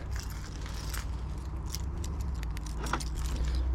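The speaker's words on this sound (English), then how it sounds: "grab the keys" A set of car keys is picked up and jangles in a string of bright metallic clinks over a steady low rumble inside a Mercedes CLK55 with an M113K engine; no one talks.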